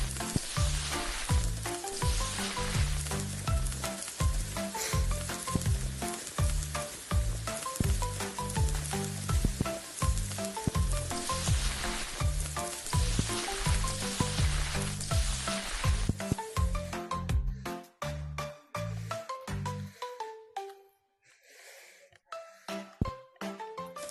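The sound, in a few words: food sizzling on a food truck griddle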